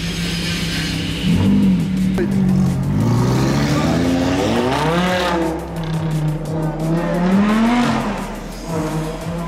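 An Audi R8 sports car drives by with its engine revving hard, a loud, close, rising and falling engine roar with changing gears that fills the whole stretch.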